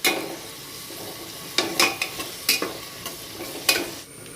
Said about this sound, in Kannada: ನೀರುಳ್ಳಿ ಸ್ವಲ್ಪ ಕೆಂಪು ಬಣ್ಣ ಬರುವ ತನಕ ಫ್ರೈ ಮಾಡಬೇಕು